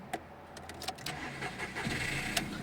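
A Skoda Fabia engine cranks and starts, with a few mechanical clicks at first, then settling into a steady idle, close and fairly loud.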